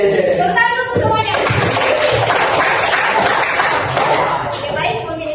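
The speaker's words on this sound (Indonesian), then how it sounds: "Tepuk tangan untuk semuanya." A classroom of students claps hands together at the end of a lesson, a dense, steady burst of applause lasting several seconds, with a speaking voice heard over it at the start.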